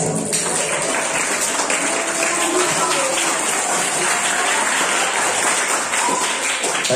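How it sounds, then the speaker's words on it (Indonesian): An audience at a Nahdlatul Ulama anniversary gathering claps for an honored guest, with dense, sustained applause that stays loud and even throughout. "Tepuk tangan kepada Pak Sis."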